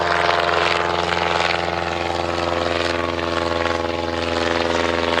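Vintage aircraft powered by a Rolls-Royce Continental 100 horsepower engine at an evening air display, its steady propeller drone and engine harmonics loud and continuous throughout, with no voices.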